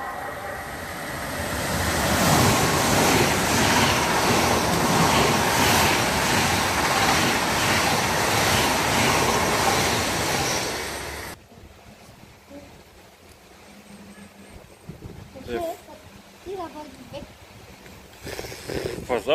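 An Intercity train rushes through Gotha station, a loud sustained roar with rhythmic wheel clatter for about eleven seconds that cuts off abruptly to quieter platform ambience with people talking.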